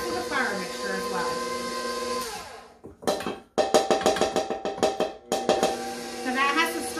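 Brown cake batter is mixed in a bowl with the added flour mixture, producing a quick run of rhythmic clanks and knocks against the bowl that follows a stretch of voice and clatter.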